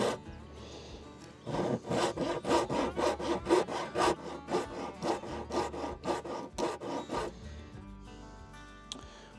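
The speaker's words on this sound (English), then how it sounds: "This is a double-sided rasp." Wood being filed with a double-sided rasp during a carport ridge beam scarf joint build, about a dozen close, loud rhythmic rasping strokes followed by quieter scraping.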